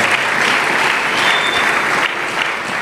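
A church congregation gives close, loud, sustained applause that fills the whole moment without a break.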